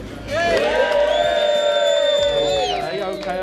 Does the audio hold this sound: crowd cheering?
yes